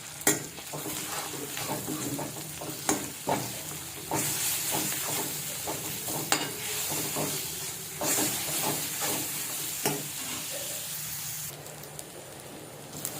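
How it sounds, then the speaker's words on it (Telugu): Ginger garlic paste and turmeric fry in a pan for a greens curry, with loud steady sizzling and hissing steam broken by repeated scraping and clanking as a spoon stirs against the pan. "అవి కొంచెం పచ్చి వాసన పోయేదాకా కలుపుకోవాలి ఫ్రై చేసుకోవాలి"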